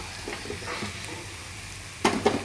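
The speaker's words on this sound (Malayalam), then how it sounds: "ഇതിൻ്റെ അകത്തിട്ട് നന്നായിട്ട് ഇളക്കി എടുക്കണം." Cooked long beans are stirred into fried onion and chilli in a pan, with a soft frying sizzle under a few gentle stirring scrapes and two sharper, louder scrapes near the end, with no talk.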